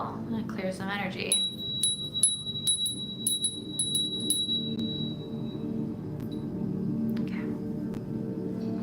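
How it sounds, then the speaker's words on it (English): A small bell rung to clear energy gives a run of bright, rapid metallic strikes with a clear ringing tone that fades out slowly over a steady low background hum. "I'm feeling the need to ring the bell and clear some energy."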